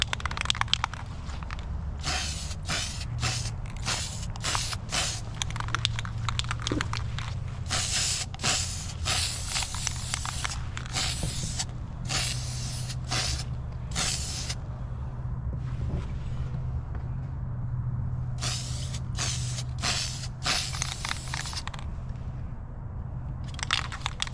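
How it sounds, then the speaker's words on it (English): Repeated bursts from a spray paint can, short and long hisses in uneven succession, close by over a steady low hum. "I think I'm actually digging this color for being spray paint"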